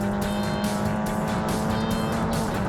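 Formula 4 race cars at Pittsburgh International Race Complex scream past with high, sustained engine notes, loud and continuous with pulsing gear changes, no voices.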